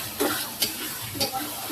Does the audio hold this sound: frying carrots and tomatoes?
yes